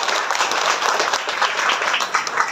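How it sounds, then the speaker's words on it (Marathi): An audience at a business training event breaks into strong applause, many hands clapping in a dense, even roar that holds steady throughout. "एकदा जोरदार टाळ्या झाल्या पाहिजे."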